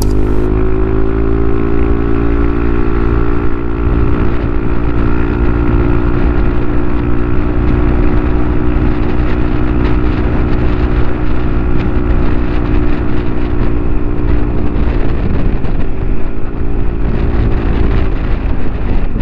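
A motorcycle engine with a remapped ECU revs hard and steadily uphill, a loud continuous drone with harmonic whine and wind rush, the pitch dipping and recovering near the end, with no talking.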